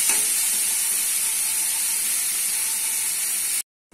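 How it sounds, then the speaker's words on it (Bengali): Potatoes frying in oil in a pan give off a loud, steady, bright sizzle that cuts off abruptly near the end. "লাল করে ভেজে তুলে নিতে হবে।"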